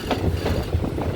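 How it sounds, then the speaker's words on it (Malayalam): A passenger train on the Kayamkulam–Ernakulam line via Alappuzha pulls into Thuravoor station, heard from on board as a steady low rumble with a rhythmic wheel clatter. "അപ്പോൾ തുറവൂരിലേക്ക് ട്രെയിൻ എത്തിയിരിക്കുകയാണ്"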